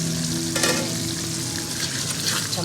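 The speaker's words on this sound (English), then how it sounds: "Tomatoes are cooking." Tomatoes cooking down in a pan sizzle in a dense, steady hiss, close and fairly loud, with a low hum underneath and a brief louder burst of bubbling partway through, with no one talking.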